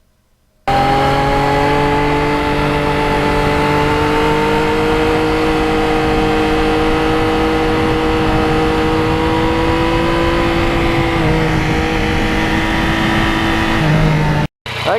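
A 2020 Yamaha MT-09 motorcycle cruises at a steady pace on the road, a loud, continuous engine drone mixed with road and wind noise, the pitch shifting slightly near the end.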